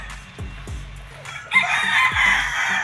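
Chickens at a gamefowl farm, young pullets alongside a rooster, with repeated close clucks and then a loud crow rising at the end, heard on their own without talk.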